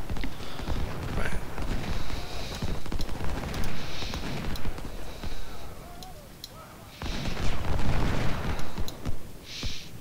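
A video game battle rages with massed gunfire, dense overlapping volleys and heavy booming shots that rumble continuously, with short lulls between bursts and a voice faintly underneath.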